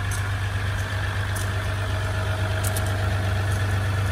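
A 2016 Dodge Ram 1500 pickup idling, its engine giving a steady, loud low rumble with a constant hum, unchanging for about four seconds, with a few faint ticks on top and no one speaking.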